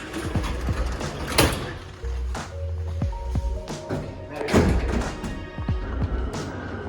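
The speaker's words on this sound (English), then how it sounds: "Millie, would you open the door for the elevator, please?" An elevator door in Northern Argentina is opened with a series of thumps, taps and sliding rattles, close by, with some background noise.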